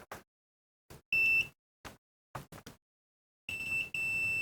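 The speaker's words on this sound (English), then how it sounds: "Let's set our multimeter to continuity" A multimeter set to continuity gives short, clean electronic beeps while testing the fuse of a Hoover SD101 cordless vacuum, two tones of roughly a third of a second and a sustained one near the end, separated by quiet probe clicks.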